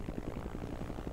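A helicopter in the Disney Infinity video game, its rotor producing a steady, rapid low thudding at moderate volume with no talk over it.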